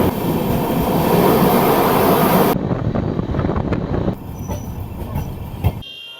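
Steady, loud rumble and rattle inside the 13149 Kanchankanya Express running from Sealdah toward the Dooars, with a sharp drop in level partway through and a brief clunk near the end.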